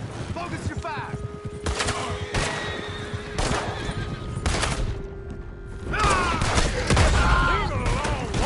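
Western-era gunfire aimed at a horse-drawn coach in Red Dead Redemption 2: repeated sharp rifle and pistol shots over a rumbling background, with horses whinnying loudly near the end.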